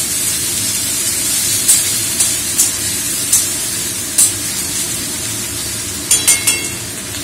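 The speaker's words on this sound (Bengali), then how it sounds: "রসুন আদা একসাথেই পেঁয়াজের সাথে ভাজা ভাজা হবে।" Garlic and ginger frying together with onions in a pan give a steady broadband sizzle that runs throughout, with a few sharp clinks and scrapes of a utensil against the pan.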